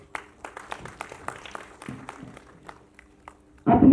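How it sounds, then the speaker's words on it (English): Scattered claps from an audience at an education awards ceremony, sparse and uneven, building toward a louder burst at the end. "Round of applause, please."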